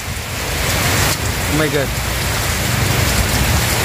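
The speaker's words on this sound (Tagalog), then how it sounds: "Lakas po ng ulan" Heavy rain pouring down outdoors during a coffee delivery trip from Dasmariñas to Tagaytay, a steady loud hiss of drops hitting surfaces that fills the whole stretch, with a brief exclaiming voice over it.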